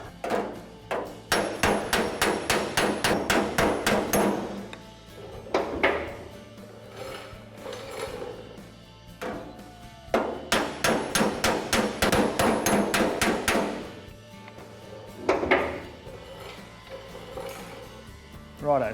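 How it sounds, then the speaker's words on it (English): Rapid bursts of hammering on a car door panel from the back, sharp repeated metal blows in fast runs separated by short pauses, close and loud with no talking. "I've hammered that from the back"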